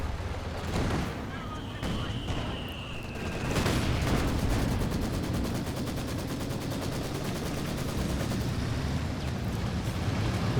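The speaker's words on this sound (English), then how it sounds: "lot of artillery flares coming down from both players" Artillery flares and fire raining down during a competitive strategy game match, dense rapid crackling bursts and booms layered over a continuous rumbling battle din.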